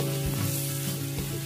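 Garlic sizzling hard in hot annatto oil, a loud close crackling fry with faint stirring scrapes and no talking.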